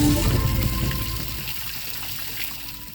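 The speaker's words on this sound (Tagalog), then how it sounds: "Ang nagbubugawas na tubig na ini sa tubukan sarong water reservoir sa Barangay Panuypuyan, Bula" Water gushing out of a pipe outlet at a rural water reservoir in Barangay Panuypuyan, Bula, a steady close rushing flow that eases slightly toward the end, with no voices.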